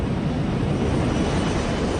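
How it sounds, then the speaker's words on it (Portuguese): Dense, loud and unbroken roar from a stalled Airbus airliner spinning down toward the ground, steady throughout with no voices. "agora o Airbus está caindo em parafuso em direção ao solo, a aterrorizantes 70 metros por segundo"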